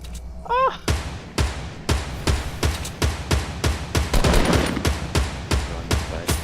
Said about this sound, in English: They're shooting at us from across now too.